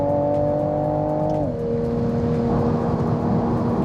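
A Toyota Supra race car engine holds a loud, steady tone on track, dips briefly as it shifts, then keeps pulling hard with a buzzing drone.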